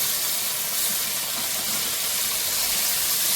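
Okra frying in hot oil in a pan, a dense, continuous bright sizzle and hiss at a steady, close level with no pauses.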